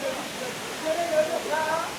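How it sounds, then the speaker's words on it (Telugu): Steady rushing water of Valasa waterfalls in the hills of Maredumilli, a continuous broadband roar close by with faint voices and splashing over it. "ఫైనల్గా వాటర్ ఫాల్స్కి వచ్చిన తర్వాత"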